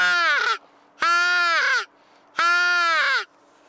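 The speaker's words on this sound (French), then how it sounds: "Le nombre de corbeaux que j'ai vus, j'ai réussi à faire venir." Crows caw near a three-sided hunting hide: three loud, drawn-out harsh calls with short quiet gaps, close and clear with no talking.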